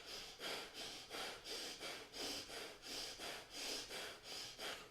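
Forceful nose blowing during a breathing exercise at an energy event comes as about ten rhythmic, evenly spaced breathy bursts, each a hissing snort-like exhale, fairly quiet and close, with no talking.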